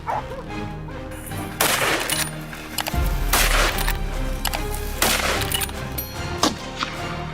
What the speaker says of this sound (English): The dogs barked furiously, driving them from their cover.